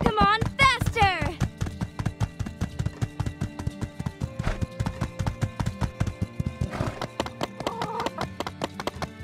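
Rhythmic clip-clop of a galloping horse being ridden in the video game My Time at Sandrock, fast steady hoofbeats with a whinny at the start, close and clear.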